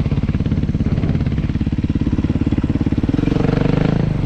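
A scooter engine putters loudly close by in a steady, throbbing rhythm, its pitch lifting slightly toward the end.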